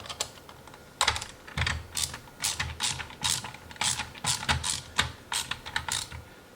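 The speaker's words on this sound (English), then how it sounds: "Let's get this wrench down here." A wrench ratchets while tightening a furniture mover dolly with 360° wheels, a run of quick close metallic clicks in uneven bursts with short pauses between, and no talking.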